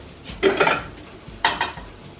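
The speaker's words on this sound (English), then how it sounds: "It'll all stir really nice, mix it in." Peas being stirred with mint jelly and a little butter for minted peas, heard as two short bursts of wet scraping and clinking utensil against the dish, close and moderately loud, with quiet pauses between.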